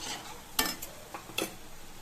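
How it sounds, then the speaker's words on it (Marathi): Ground masala paste for an egg curry is sautéed in oil with a spatula until the oil separates. Faint, sparse scraping strokes and a soft sizzle sound close by, with no talking. "छान परतून घ्यायचं तेल सुटेपर्यंत"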